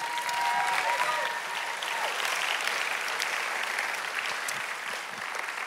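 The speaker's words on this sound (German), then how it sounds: "Applaus für Diego." A congregation at a Sunday night church service claps for Diego, a broad, even wash of applause that carries steadily from start to finish.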